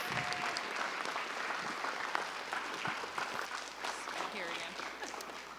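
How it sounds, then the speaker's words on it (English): Audience applause at a business career panel day, a steady wash of clapping sustained throughout at even loudness with a faint murmur of voices underneath. "Let's give them all a round of applause, please."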